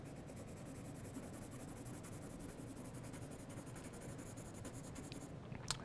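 A pencil is drawn back and forth across paper in continuous strokes, a soft, steady scratchy rasp that stays faint and close throughout with a small tap near the end.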